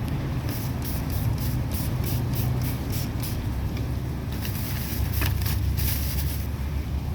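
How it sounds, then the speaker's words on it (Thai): Disinfectant is sprayed over vegetables bought at the market, producing a loud, continuous hissing spray with brief pulsing bursts, near and unbroken for several seconds, with no voices. "ผักนี้เราก็ฉีดไปเลยนะครับ"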